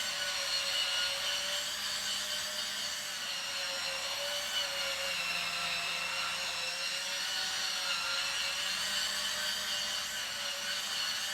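A £12 electric scrubber brush runs steadily as it is worked up and down over a surface, giving a continuous high-pitched whirring buzz at close range with no talking.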